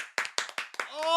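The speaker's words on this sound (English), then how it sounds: "Come on, clap it up." Several sharp hand claps in quick succession, close by, followed by a voice starting to speak.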